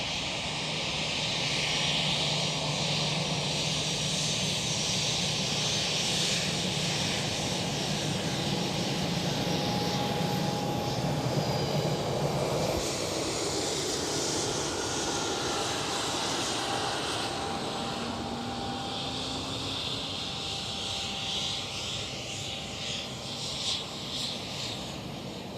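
Continuous loud jet roar from a KLM Cityhopper Embraer E190 at Schiphol airport, a dense wash of engine noise with faint whining tones, holding steady throughout and thinning a little toward the end.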